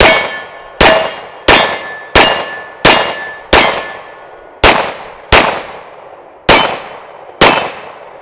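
A 9mm 1911 pistol firing at steel targets outdoors, with ten loud, evenly spaced metallic clangs that each ring out and decay before the next, no talking.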